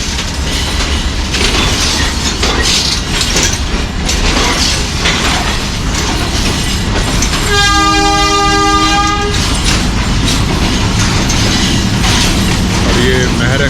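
Awam Express passenger train standing at platform 3 of a Pakistani station, heard as a continuous loud mechanical rumble with a long, harmonically rich horn blast of about two seconds partway through; no talk is heard.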